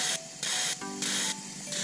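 A fuel injector on an improvised test rig spraying brake cleaner badly, with the spray coming out the sides: short, loud hissing bursts that pulse on and off about three times.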